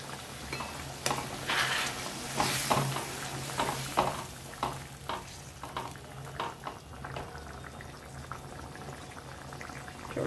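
Jackfruit curry cooks in a pot with added hot water, giving a soft bubbling simmer with scattered clinks and stirring scrapes, fairly quiet and close.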